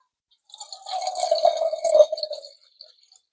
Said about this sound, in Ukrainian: намагаюсь налити правильно, щоб було рівно пів літра